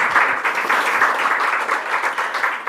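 A conference audience applauds the panelists with continuous, even clapping from many hands, fairly loud and sustained throughout with no voices over it.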